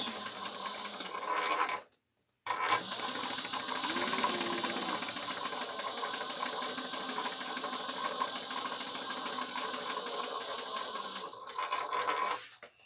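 A sewing machine stitching a seam on a travel bag runs in a fast, steady mechanical whir close up, stopping briefly near the start and then running continuously.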